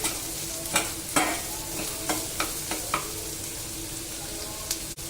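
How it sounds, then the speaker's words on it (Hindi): Green chillies and onion fry in mustard oil with a steady close sizzle, broken by several sharp scraping stirs and clicks of a spatula against the pan. "सरसों का तेल लिए हैं, इसमें हरी मिर्च और प्याज को फ्राई कर लेते हैं।"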